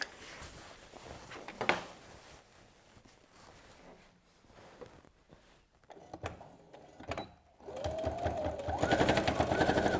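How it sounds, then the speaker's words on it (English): A sewing machine top-stitches an apron, starting after quiet rustling and a few knocks, then running in a steady, rapid rhythmic whir for the last couple of seconds, close and unaccompanied by talk. "So just keep top stitching"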